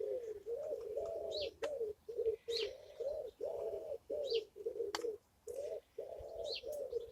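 Wood pigeons on an allotment plot coo in repeated soft, rhythmic phrases, steady and fairly close, with faint chirps from smaller birds in the background.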